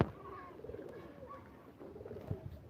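Pigeons coo softly nearby in a few low, rolling calls over a quiet background.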